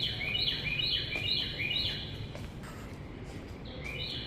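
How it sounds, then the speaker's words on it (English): A wild bird on a university campus calls repeatedly in quick chirping phrases, fairly clear over low outdoor background rumble, with a pause before the calls resume near the end. "is that a bird? Are they wild birds?"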